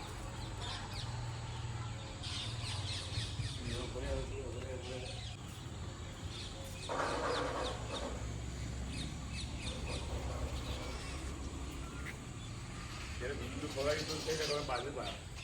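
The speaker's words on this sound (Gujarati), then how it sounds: "મોર આવ્યા છે મોર" Peacocks call outdoors, a few loud wailing cries spaced several seconds apart over a murmur of background voices and ambient noise.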